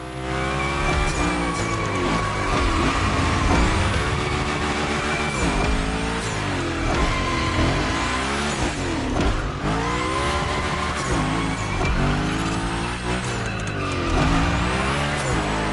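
Hoonicorn in The Crew Motorfest sliding through gymkhana drifts, its engine roaring loud and close throughout with repeated tire squeals as it swings back and forth, no talking.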